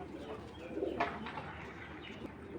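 Racing pigeons, big, healthy and strong birds, coo repeatedly up close in a loft, soft throaty calls layered over a steady background murmur with a few brief chirps.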